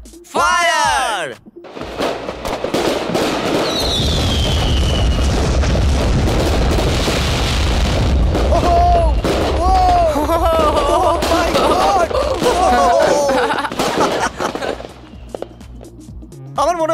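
A huge multi-shot firework of about 9,000 shells goes off in a loud, sustained roaring barrage of dense booms and crackles lasting over ten seconds, with people shouting and whooping over it.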